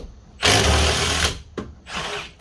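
A power tool runs in loud whirring bursts during brake work on a 2002 Kia Optima LX: one sustained burst of about a second, a short blip, then another burst, all close by.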